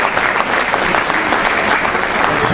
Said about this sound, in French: avant de vous souhaiter une bonne année, applaudir Pierre